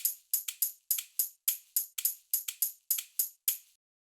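Short, bright, plucky MIDI notes from Ableton Live play as a polyrhythm, with seven evenly spaced notes per bar layered against another pattern, forming a quick run of crisp clicks that stops after about three and a half seconds, quiet and without talk.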